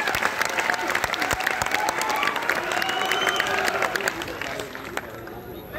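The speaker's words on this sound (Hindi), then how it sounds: "दोनों हाथ ऊपर उठाकर तालियां बजाकर उनका जोरदार स्वागत कीजिए" An audience at a Holi kavi sammelan breaks into hearty, continuous clapping to welcome a poet to the stage, the dense applause holding strong for several seconds before thinning slightly near the end.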